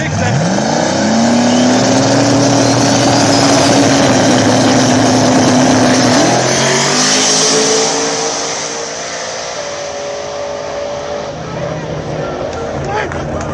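Small tire outlaw drag race cars, including a Turbo Nova, launch at Mooresville, one engine revving hard and climbing in pitch before easing off, loud and close over crowd babble.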